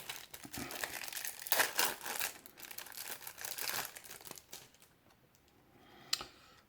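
Yu-Gi-Oh promotional booster packs of foil wrapping are torn open and crinkled up close, with crackling, rustling and tearing in uneven bursts that then fade to a quiet pause before one last crinkle.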